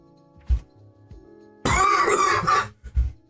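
A voice imitates a skewered half giant coughing up blood, a harsh, wet, gurgling cough of about a second rising abruptly from near silence, with short throaty bursts before and after.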